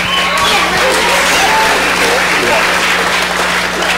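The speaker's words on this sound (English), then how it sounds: "So we want to give you guys a huge round of applause and thanking you for equipping us to get the work done." A crowd applauds to thank the people who lent tools for a work project, a loud continuous wash of clapping with scattered voices and a steady low hum beneath it.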